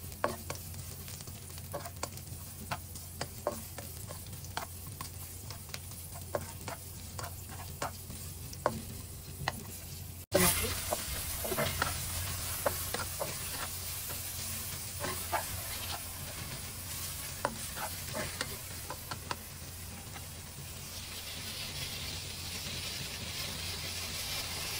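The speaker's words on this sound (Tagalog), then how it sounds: "igisa na natin" Onion, garlic and tomato sauté in a pan for sweet and sour dried fish escabeche, with a soft hiss and regular spatula clicks. Partway through, a louder, fuller sizzle takes over.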